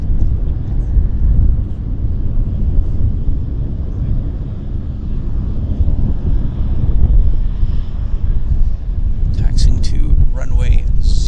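An Air Canada airliner departing Vancouver Airport for Toronto, a steady loud jet-engine roar with wind buffeting and a person talking over it.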